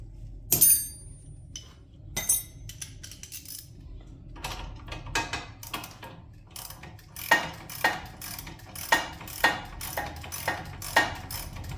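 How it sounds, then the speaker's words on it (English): A ratchet works on a field mower during disassembly, giving a sequence of metallic clicking and ratcheting bursts, first sparse and then in a faster, regular rhythm, close and without talking. "Give a guy a ratchet, would you?"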